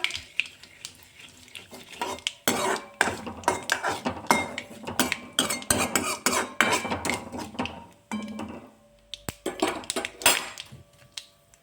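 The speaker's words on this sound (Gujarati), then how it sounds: "હવે બધા જ આપણે ખડા મસાલાને સાતડી લેશું" Mustard seeds, asafoetida and whole spices are stirred in a pan for a Rajasthani-style papad curry, with a spoon clattering and scraping in close, busy bursts and a faint sizzle underneath.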